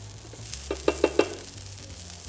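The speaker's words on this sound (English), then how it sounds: "Quite a good and healthy helping of butter in there. Just let it melt." Butter sizzles in a hot pan while a spoon stirs it, giving a few quick, close scraping strokes over a steady low fry, with no voices.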